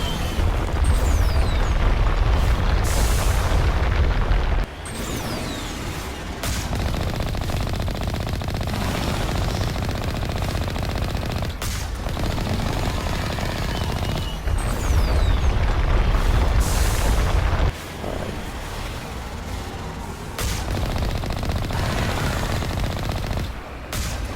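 Sustained automatic gunfire and booming impacts fill a Mass Effect firefight, with long loud bursts broken by a few short pauses across the whole stretch.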